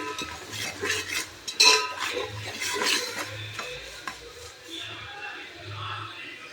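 Ginger garlic paste with salt stirred in a hot pan for biryani, scraping utensil strokes against metal over a soft sizzle, with a voice talking at times.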